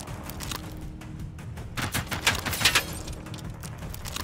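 Bursts of gunfire in the video game Generation Zero, fairly faint and distant, rattle in quick irregular volleys that peak in the middle of the stretch.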